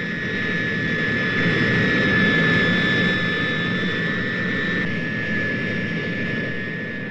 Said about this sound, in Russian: Следом за носителем воздух поднимается самолет лабораторию.